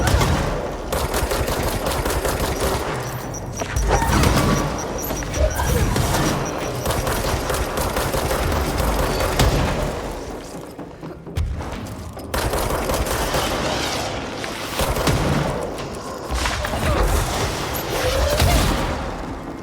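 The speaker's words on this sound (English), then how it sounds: "Throwing grenades at your friends is not nice." Explosions and heavy combat noise in the video game Control, a dense, loud, sustained roar of blasts and gunfire with a brief lull near the middle.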